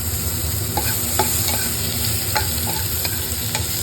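Onions fry for tomato curry in a pan, with a steady close sizzle and occasional light taps of a stirring spoon, and no talk.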